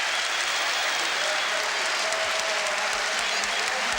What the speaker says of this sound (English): he gets applause from his manager and the bench and from the Tottenham fans as well